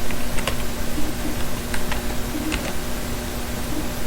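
Steady typing on a computer keyboard while entering a Python for loop, rapid light key clicks over a constant background hiss, with a few louder taps standing out, no voices.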